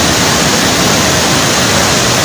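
The Tinte stream rushes in flood across the Dikchu–Singtam highway, a loud, dense, unbroken roar of water close by, with no voices over it.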